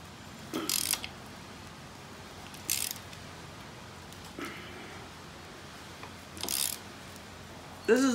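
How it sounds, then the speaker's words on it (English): A ratchet wrench clicks in short bursts on a very tight bolt during a Yamaha YFZ450 ATV teardown, four or five brief clusters of ratcheting separated by quiet pauses, fairly close. "let's try a ratchet and see if we got it good enough now"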